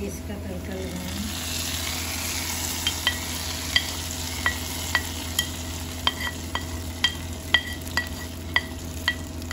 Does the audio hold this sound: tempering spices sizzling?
yes